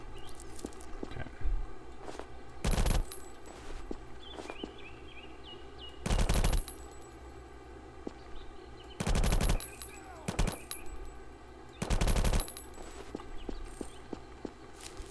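Short bursts of gunfire in the Roblox military game BRM5 on a mountain capture point, about four loud rattling volleys spread evenly across the clip over low background ambience with faint clicks.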